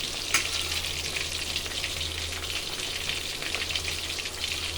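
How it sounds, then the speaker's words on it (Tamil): Fish frying in a pan after being turned over, a close, continuous crackling sizzle like light rain with a low steady hum beneath and one brief spatter near the start. "திருப்பியாச்சு. இந்த பக்கம் வேகட்டும் இன்னும்"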